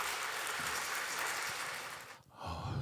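Applause from a church audience at a mothers' prayer meeting, a dense steady wash of clapping that swells, dips briefly near the end, then resumes loudly.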